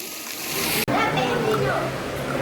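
A water fountain at a temple complex gushes and splashes in a constant bright rush, close by and loud, while a voice talks over the noise.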